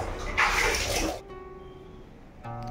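Water is poured over someone's head during a bath: a loud, close splash and rush lasting under a second, then it trails off into a quieter room.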